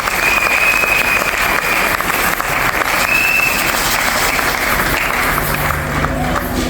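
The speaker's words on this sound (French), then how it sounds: "est-ce qu'on peut les recevoir avec des acclamations?" A church congregation at a pastor's consecration applauds and cheers as people come forward, loud dense clapping with crowd voices, sustained throughout.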